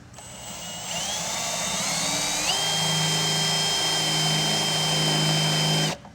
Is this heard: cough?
no